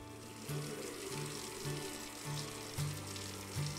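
Water running into a brewing container in the beer-brewing simulator game Brewmaster, a faint hiss under a low, pulsing tonal hum.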